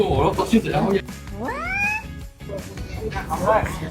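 A single drawn-out cat meow rises and bends in pitch, set between stretches of talking voices.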